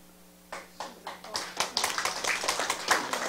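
Audience at a lecture seminar clapping, starting as a few scattered claps and building into denser, overlapping applause, fairly close and moderately loud with no talk over it.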